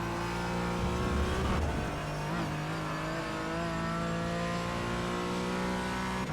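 Porsche GT4 engine on the track at Road Atlanta, a steady loud drone that swells and dips with throttle changes, with a brief surge early on as the car accelerates out of a corner.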